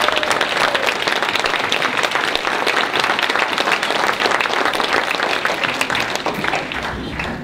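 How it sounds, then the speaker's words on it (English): An audience in the New Hampshire legislative chamber gives a long round of dense, steady applause, loud and continuous from start to finish. "Another round of applause."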